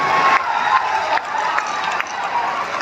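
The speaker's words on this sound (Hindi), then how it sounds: "पूरे चंपारण के लोग एक बार जोरदार ताली बजाकर स्वागत करने का काम कीजिए साहब" A large crowd at an outdoor political rally applauds and cheers in a dense, sustained roar of clapping and shouting, loud and continuous throughout.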